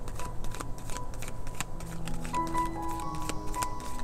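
Tarot cards riffled and shuffled by hand in quick, papery flutters and soft taps, with a few cards slipping loose, close and fairly quiet over a faint background hum.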